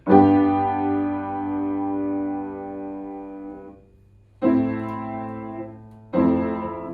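A sustained tonic chord on keyboard rings out and slowly decays, followed by two shorter dominant chords struck after a brief pause, clear and close with no talking.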